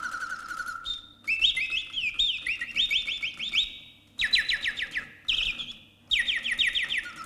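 Mechanical automaton of embalmed real birds at a mechanical music museum in Palmela, trilling and whistling in alternating phrases, loud and close, with short pauses between the bursts of song.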